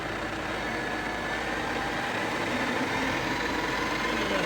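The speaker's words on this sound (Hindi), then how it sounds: "we are further increasing the speed of the spindle" Aciera F4 precision universal milling machine from Switzerland, its spindle being run up in speed toward a 3400 RPM maximum, giving a steady, dense mechanical whir that holds at an even level throughout.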